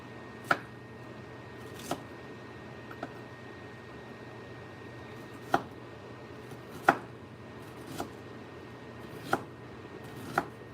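A knife chops onions on a cutting board with sparse, irregular sharp taps spaced over several seconds, faint against a low steady background hum.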